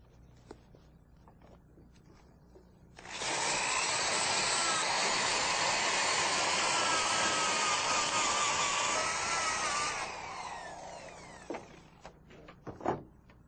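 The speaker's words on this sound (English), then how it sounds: "We'll sand now to remove all the loose rust." A power sander taking loose rust off metal before a polyester fiberglass resin repair, a loud close whirring grind that runs steadily for about seven seconds, then winds down, followed by a few light knocks.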